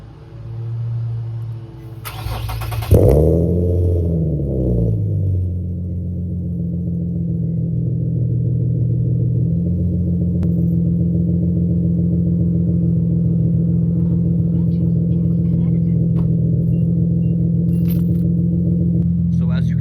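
An Infiniti G37x with bolt-on modifications, off for about 45 minutes, cranks and catches with a brief rev, then settles into a steady, low idle that runs on evenly.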